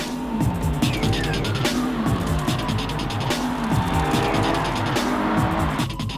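BMW M3, M5 and 330i cars launch into a three-lap race on a wet track, engines roaring loud and close with repeated tire squeals and skidding throughout.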